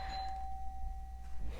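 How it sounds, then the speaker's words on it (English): A doorbell chimes indoors, a faint sustained electronic tone holding steadily through the moment against a quiet room. "The doorbell just rang twice."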